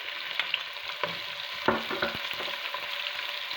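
Vegetables sizzle and fry steadily in a pan coated with pork juices for garlic pork, a continuous hiss broken by a few louder stirring scrapes and crackles, no voices.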